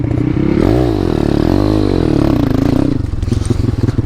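Jawa motorcycle with an old YX 140 engine riding on gentle throttle, a loud close two-stroke drone that rises and falls in pitch with light revving and rattling clatter throughout.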